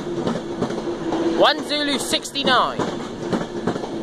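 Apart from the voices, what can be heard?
Class 390 Pendolino train 390005 City of Wolverhampton departing Carlisle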